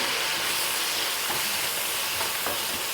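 Onion, ginger and garlic sautéing together in a pan, a steady close hiss of frying with occasional soft stirring scrapes and no talk.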